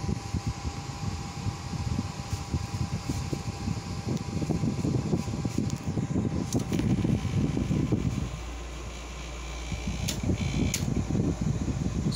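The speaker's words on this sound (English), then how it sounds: "It has a bit of a startup noise." A 2020 Hunter desk fan whirs with a steady, close airy hum, its noise briefly dropping away and then building back up as it starts running again.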